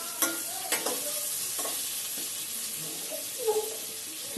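Chicken for a chicken rice dish frying gently over a low flame in a home kitchen: a continuous low sizzle with several distinct stirring scrapes and clinks spread across the clip.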